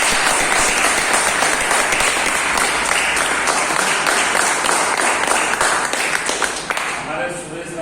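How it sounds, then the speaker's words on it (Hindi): Loud, sustained applause from an office audience fills the room without pause, a dense wash of clapping hands that only starts to thin out near the end. "एक बार जोरदार तालियां कराऊंगा।"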